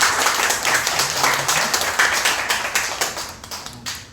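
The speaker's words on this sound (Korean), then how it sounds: "다 같이 한번 박수로" A congregation claps together in a church, a dense, steady wash of applause filling about four seconds at close range, with no talking over it.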